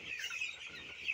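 Broiler chicks in a poultry shed make soft, faint chirping and peeping calls that overlap in a continuous, high cluster.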